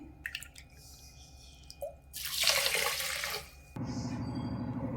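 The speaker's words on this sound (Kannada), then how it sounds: "ಇದರಲ್ಲಿ ಇವಾಗ 3 ಗ್ಲಾಸ್ ನೀರು ಹಾಕೊತೀನಿ" Water pours in a short rushing burst into a pot of foxtail millet, followed by a steady hum and light drips, with no one talking.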